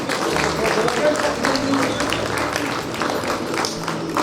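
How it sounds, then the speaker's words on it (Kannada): An audience applauds at a ceremony where a Chief Minister unveils a portrait of Basavanna, a dense, steady clapping that fills the room, with voices underneath. "ಚಪ್ಪಾಳೆ ಬರಲಿ"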